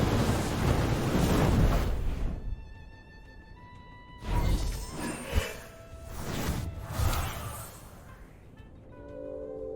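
A fire tornado attack in the video game Temtem roars with broad whooshing surges that swell and fade in several waves. Tonal game effects ring out between the bursts.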